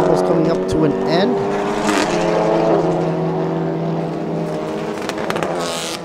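TCR Thailand touring race cars lap the Buriram United International Circuit late in a race, their engines droning steadily and loudly with shifting pitch as they pass, under a voice.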